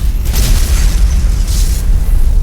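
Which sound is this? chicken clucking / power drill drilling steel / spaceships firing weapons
spaceships firing weapons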